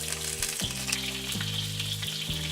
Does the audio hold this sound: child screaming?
no